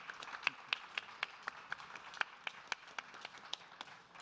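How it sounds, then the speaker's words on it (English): Scattered audience applause at a health startup festival stage, with a small number of distinct, uneven claps ringing out over a thin background for several seconds. "Can I get a round of applause?"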